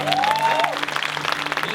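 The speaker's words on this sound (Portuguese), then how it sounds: "Dá uma salva de palmas para eles." Church congregation applause at a service held in a cinema, a fairly steady patter of clapping that thins out, with a faint voice and a brief tonal sweep near the start.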